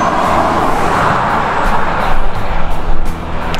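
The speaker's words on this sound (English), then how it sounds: "Relatively high traffic road here, Route 217." Steady roar of traffic on Route 217, a relatively high-traffic road near a rural property in Blairsville, with vehicles rushing past close by and the noise swelling as one passes toward the end.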